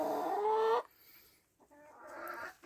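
Ornamental chickens and a young one-year-old rooster in a coop, with a loud drawn-out crowing call that cuts off, then a short pause and another rising vocalization nearby.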